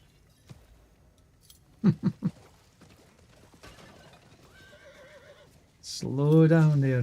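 A horse in the Diablo 4 video game whinnies loudly near the end, after a few sharp hoof-like thumps and scattered mechanical clicks, with other game sounds faint in the background.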